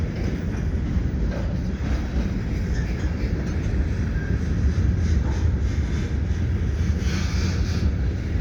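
CN freight train passing over the Lachine bridge: a continuous low rumble and rolling clatter of wagons, heavy wind buffeting the microphone throughout, with no talking.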